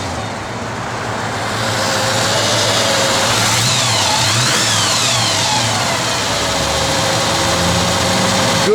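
A 1964½ Ford Mustang's 302 V8 runs steadily close by, a low rumbling idle that swells slightly as it settles, with a faint whooshing sweep passing through midway.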